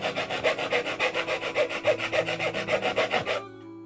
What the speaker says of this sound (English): did I really just rasp this down all the way?